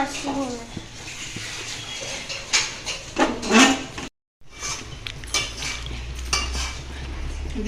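A metal spatula scraping and knocking against a cooking pan while food is stirred at home, with irregular clatters and scrapes, a brief dropout midway, and soft voices in the background.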